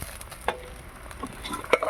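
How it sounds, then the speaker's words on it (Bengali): Vegetable curry broth simmers in an uncovered pot, giving faint, scattered bubbling pops and soft ticks over a quiet background. "ঝোল ফুটছে"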